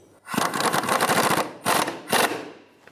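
Rapid bursts of ratcheting or impact-wrench clatter snug down the top bolt of a rear shock absorber on a 2010-2015 Lexus RX350, one long run followed by two short loud bursts, close and with no talking.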